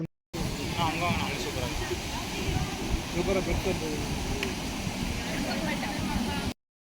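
Rushing water pours steadily from the nearby Agasthiyar Falls, a broad continuous roar with a voice talking over it.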